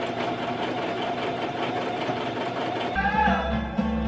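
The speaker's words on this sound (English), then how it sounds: "now it's time to sew" A sewing machine stitching a simple hem along the bottom of a fabric summer top, a steady motor whir that runs continuously, then changes to a lower, heavier hum for the last second.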